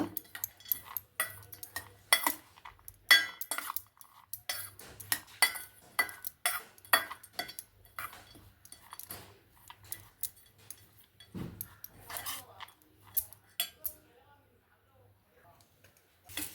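Powdered salt stirred into a mango rice mixture: a spoon scrapes and clinks against a metal vessel in quick, irregular strokes, close and fairly quiet, while a person talks over it.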